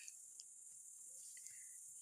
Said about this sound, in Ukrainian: Цвіркунеток.